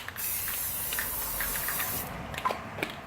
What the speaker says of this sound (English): I'll take it and I'll spray it off somewhere else